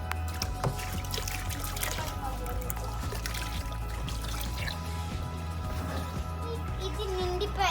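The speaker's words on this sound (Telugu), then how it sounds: "ఇప్పుడు ఫ్రెష్ వాటర్తో ఫిల్ చేస్తున్నాం ఈ టబ్ని." Fresh tap water pours steadily into a cleaned fish tub, a continuous splashing gush with trickling and dripping layered over a low hum, while a voice speaks intermittently over it.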